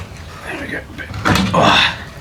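A car rollover jig holding the rear section of a vehicle being turned round in a workshop, giving a loud creaking metallic clunk and a shuffling rumble over about a second, close by.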